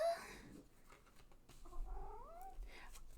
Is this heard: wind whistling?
no